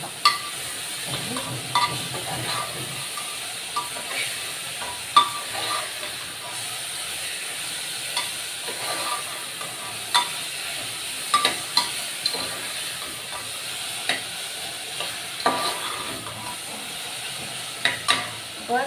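Ridge gourd and soaked chana dal stirred in a hot pan for a sabji, a continuous soft sizzle and hiss broken by frequent scrapes and taps of a spoon, close, with faint background speech.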